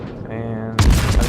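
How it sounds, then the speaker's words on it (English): A destroyer's guns firing shells in World of Warships, one sharp booming salvo following a steady droning tone, loud and close, with a voice speaking just before. "And I decided to fire at this cruiser over here."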